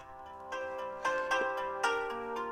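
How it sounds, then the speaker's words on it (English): Uplift ringtone from an iPhone 5 running iOS 7, held up to a microphone: a bright, melodic chime pattern rising in layered tones with several repeated note onsets, moderately loud and alone without talk. "We'll go with uplift because I don't want to hurt your ears, but this is the one I've chosen."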